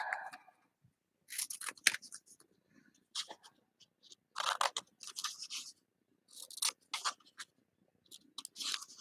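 Scissors trimming paper for a craft project: close, crisp snips in irregular bursts separated by quiet gaps, with no talking.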